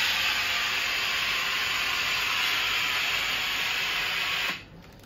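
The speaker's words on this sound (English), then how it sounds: "Here, if you will see, we have used the steam." A SAYONApps steam station releases a loud, steady hiss of steam for about four and a half seconds, then cuts off abruptly to near quiet.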